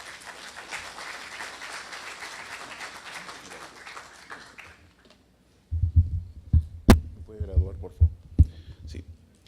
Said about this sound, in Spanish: doctor Iván Hidalgo, por favor, un fuerte aplauso